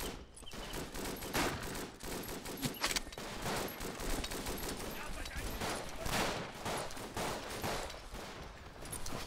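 Dense, continuous gunfire in the World War I shooter Verdun, rapid overlapping shots and bursts of rifle and machine-gun fire crackling without pause, loud and close, with a voice speaking over the battle.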